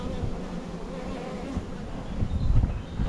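A honey bee swarm being captured on a homestead makes a dense, continuous buzzing drone close by that swells slightly louder toward the end, with no talking.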